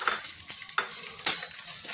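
Cumin seeds hit hot oil and crackle in a brief close sizzle, with a few sharp pops and a metallic scrape of a utensil against the pan.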